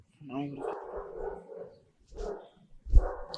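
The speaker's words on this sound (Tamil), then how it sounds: "நாய் குலைக்குது." A dog barks and yips in short bursts, with low thumps and close voices talking over and between them.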